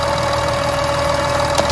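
Auxiliary coolant pump running on a 2014 Audi A8 D4 facelift with the 3.0 TDI engine warm, a steady close electric whir with a constant tone and slight vibration, continuous throughout.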